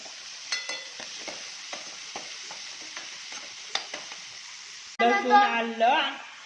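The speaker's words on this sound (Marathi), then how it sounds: "हा कांदा ब्राउनिश लाल होईपर्यंत परतून होत आहे" Finely chopped onion fries in a pan for pav bhaji, browning toward reddish brown, as a steady soft sizzle with scattered stirring scrapes. A voice starts talking near the end.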